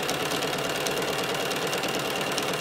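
A sewing machine runs steadily, stitching fabric strip cording for a rug, its motor humming and chattering continuously at close range without pause.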